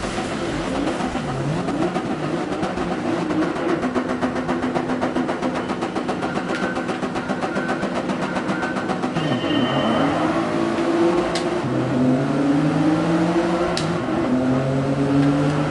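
Race car engine in Gran Turismo Sport revving hard through a launch, rising steadily in pitch as it accelerates and shifts, loud and continuous with no talk over it.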